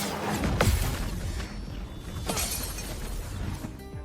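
After parries in the video game Clair Obscur, a dull glassy shatter sounds twice in quick succession, the bursts crisp and close, with a soft whoosh between them.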